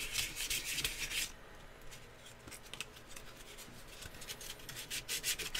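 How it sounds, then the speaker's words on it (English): Worn, dull sandpaper is rubbed by hand over a knotty wooden surface, a quiet scratchy rasp in short uneven strokes, busier at the start and end with a softer stretch between. "I can just feel how dull the sandpaper is getting after all of these little nodules on there."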